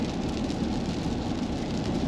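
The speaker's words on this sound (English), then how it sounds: "it's pouring rain outside" Heavy rain pours steadily outside, a dense, even hiss of falling water that stays loud and constant throughout, with no voices.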